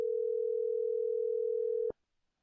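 A telephone callback rings unanswered: one steady, clear tone holds for nearly two seconds, then cuts off abruptly with a faint click, leaving near silence.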